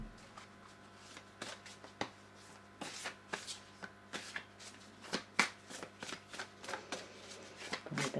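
Oracle cards are shuffled close by for a reading, a run of soft rapid riffling flutters and taps repeating through the clip, quiet and alone.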